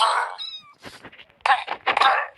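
Several cats meow in succession outdoors at night, one drawn-out cry followed by overlapping, louder calls and yowls, close and clear with no talking over them.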